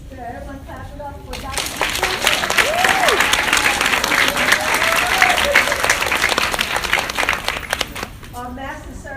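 An audience applauds for Dr. Schultz at a Sacred Woman gathering, with steady broadband clapping that swells in and holds for several seconds before thinning out. A speaker's voice talks over the start and end.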